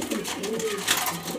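Colourful loft pigeons give a steady low cooing with a rising-and-falling warble in the middle, close and fairly soft, with a little background stir.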